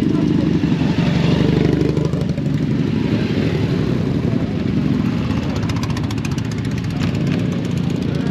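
A Yamaha Ténéré motorcycle engine runs at an off-road event, a loud steady rumbling drone with slight rises in revs, close by throughout.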